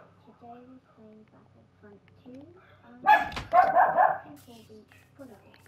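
Dogs bark in a short burst of loud barks and yips partway through, cutting into a person talking over Minecraft gameplay.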